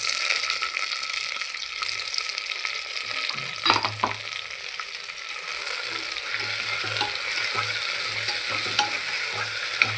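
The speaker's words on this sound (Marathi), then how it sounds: "टोमॅटोला आपल्याला चांगले परतून घ्यायचे आहे." Tomatoes sautéing in hot oil with browned onion and ginger-garlic paste, a steady close sizzle with stirring scrapes and a few sharper clinks of the spoon against the pan, no voices.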